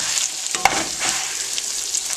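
Canned salmon frying in hot oil in a pan, a steady crackling sizzle with a brief clatter as it is stirred and flipped.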